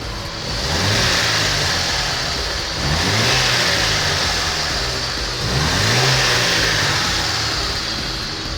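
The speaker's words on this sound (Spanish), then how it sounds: "el motor parece estar estable, pareciera que no existe ningún tipo de problema, ya que no hay inestabilidad en ralentí ni tampoco al acelerarlo." Chevy TBI engine running close by with steady, even revs, rising and falling through three smooth throttle blips over a continuous idle-level drone.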